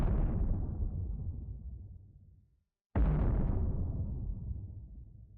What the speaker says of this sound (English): The explosion comes suddenly.